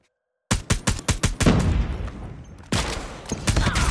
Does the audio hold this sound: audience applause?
no